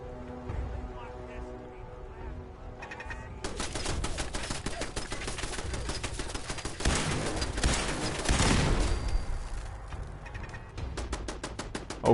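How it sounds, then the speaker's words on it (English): Rapid gunfire bursts in Fallout 4, sharp repeated cracks in dense clusters mixed with whizzing and impacts, alternating with quieter stretches and a voice speaking over the early part. "I can hear bullets whizzing past me, but I know they're not coming anywhere near."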